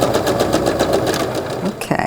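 A sewing machine runs steadily at close range, stitching a quarter-inch seam on a quilt block with rapid, even pulses that stop near the end, and a voice talks over it.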